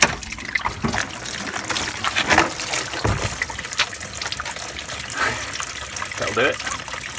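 Coolant drains from the bottom hose of a VW T4 radiator into a catch container. A continuous splashing trickle runs close by, with some uneven gushes through a noisy background.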